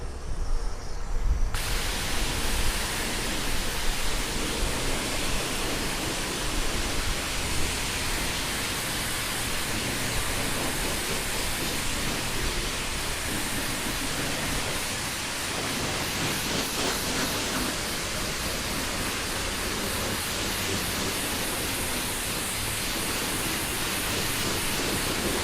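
A high-pressure wand sprays clear coat onto a motorcycle at a self-serve wash, a loud, steady hiss that starts abruptly and continues unbroken at close range.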